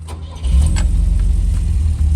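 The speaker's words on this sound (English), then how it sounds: "The car start on a dime on the first crank" A Volvo 1800 ES engine cranks briefly and catches on the first try, then settles into a steady, loud, close low rumble at idle.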